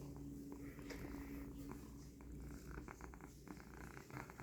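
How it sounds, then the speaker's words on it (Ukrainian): A cat purrs steadily and close up, a soft continuous rumble with a few faint clicks and rustles. "Мурчить."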